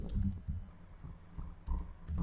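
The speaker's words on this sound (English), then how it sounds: "So I'll type WordPress" Keys on a computer keyboard tapped in short bursts, close and fairly quiet, with brief pauses between clusters of keystrokes.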